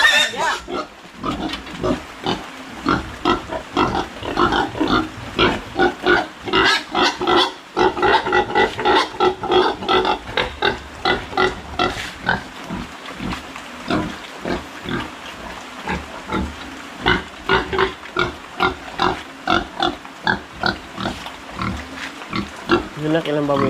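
A pig squeals and grunts in rapid, harsh bursts for over twenty seconds while being caught, loud and close, with continuous pulsing cries and commotion mixed with voices.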